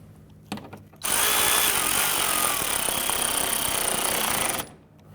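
Power tool snugging down bolts on an AC condenser and receiver drier assembly of a 2011-2015 Kia Sorento, a loud steady whir running about three and a half seconds after a few brief clicks, with no talk.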